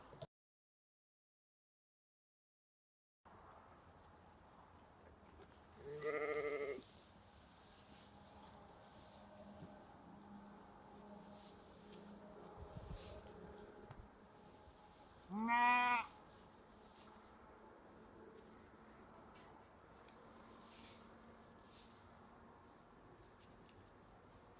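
Sheep ewes and a small ewe lamb penned with hay on an autumn farm give two separate bleats several seconds apart, moderately near against a quiet, faintly noisy background.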